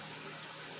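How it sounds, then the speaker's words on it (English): Running tap water streams steadily while cilantro is rinsed under it in a home kitchen during preparation of a Jamaican-style brown stew red snapper, a brief, even hiss at moderate level. "Wash this cilantro off."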